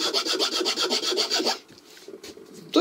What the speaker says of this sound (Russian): вполне достойно доработает с деревом данный напильник